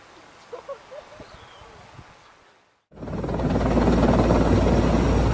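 A helicopter lifting a truck-sized load on a cable roars in suddenly after a quieter outdoor stretch with faint rustling, becoming a loud, steady rotor and engine drone.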